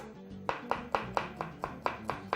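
A knife roughly chops garlic cloves on a cutting board in a home kitchen, nine evenly spaced dull thuds in a steady rhythm, fairly quiet and close, with no talking.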